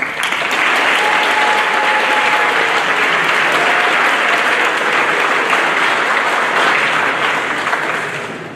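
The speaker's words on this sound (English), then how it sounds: "Let's congratulate our inductees with a final round of applause." Sustained applause from a large audience at a National Honor Society induction ceremony, dense steady clapping filling the room and tapering slightly at the end.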